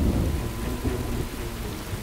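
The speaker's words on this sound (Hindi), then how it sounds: "अब इतने सालों बाद फिर से ये बारिश देख रही हूँ" Heavy rain falls continuously with a deep, rolling thunder rumble underneath, loud and enveloping, with no voices.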